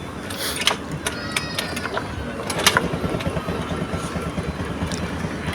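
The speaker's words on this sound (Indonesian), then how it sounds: "Nah, ini motor udah nyala ya teman-teman kondisinya ya." A carbureted Honda Scoopy motorcycle idles steadily after a kick start, its engine giving a close, even, fast-pulsing rumble with a few brief mechanical clicks and ticks on top.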